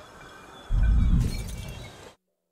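Glass smashes in the video game I Am Fish: a loud, close crash with a bright shattering burst that tails off over about a second and a half, then silence.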